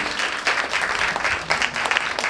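Audience applause after a live band performance, a dense, steady clatter of many hands clapping throughout the short stretch.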